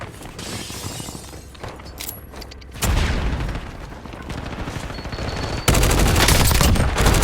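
Gunfire in the Warzone video game: loud, dense bursts of shots that sharpen into heavier, sustained volleys partway through, with no talking.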